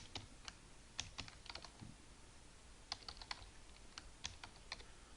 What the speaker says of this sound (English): So we click that and we type in